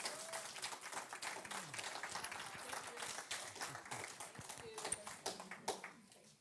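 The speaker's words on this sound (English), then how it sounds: "Can we give them another round of applause?" A congregation at a Sunday celebration gives a round of applause, scattered hand claps blending into a steady crowd patter with faint voices mixed in beneath.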